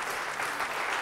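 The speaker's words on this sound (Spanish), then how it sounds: "Dale aplauso al Señor." Church congregation applauding during a Spanish-language evangelical service, a dense steady wash of many hands clapping throughout with no talk over it.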